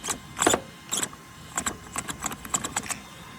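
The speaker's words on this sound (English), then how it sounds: "I'm guessing it's skipping on the servo now. It's just gonna grind that down" An aluminum-upgraded RC Sledge truck with a blown bearing has its servo skipping and grinding, heard as about ten short, irregular bursts of harsh, rattling clicks, close and alone.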